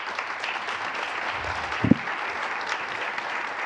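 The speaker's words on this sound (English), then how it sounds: "a round of applause for you." A round of applause from the audience at a Geneva policy outlook launch event, a steady dense patter of many hands clapping throughout, with a single sharper thump midway.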